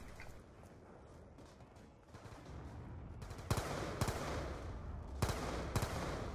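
Gunfire in the Die Rise zombies mode of a Call of Duty video game: quiet sporadic shots at first, then a run of louder sharp bursts with short gaps between them over a low background.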